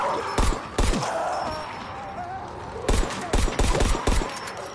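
Rapid bursts of gunfire from an infinite-ammo gun in Dying Light 2 crack out in clusters, loud and close, with a quieter stretch between the opening shots and a dense volley near the end.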